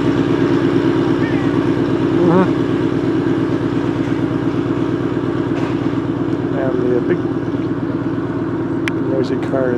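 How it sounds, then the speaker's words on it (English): A car engine idles nearby in a residential street by a park strip, a steady low rumble throughout, with someone talking over it. "The car is still idling over there,"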